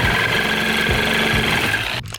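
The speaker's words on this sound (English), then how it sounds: "we gotta cut these U-bolts to fit" A power cutting tool grinds steadily through an extended steel U-bolt for a lowering leaf spring install on a drift Hilux pickup, a loud continuous whine with rumbling vibration that stops abruptly near the end.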